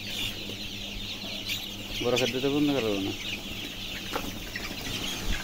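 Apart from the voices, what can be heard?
chickens clucking, scared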